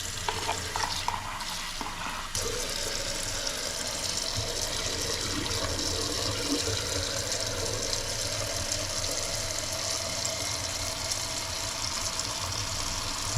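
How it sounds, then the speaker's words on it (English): Basmati rice is washed under a running tap, a steady rush of water with swishing and stirring of the grains in a pot, close and continuous, preceded by a brief quieter moment. "I always wash my rice because the water is dirty with some compound of the rice."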